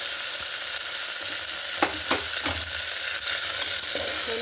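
Chicken neck pieces fry in a hot pan with onions and green chillies, giving a loud, steady sizzle with a few sharp clinks and scrapes as the pieces are stirred. No one speaks.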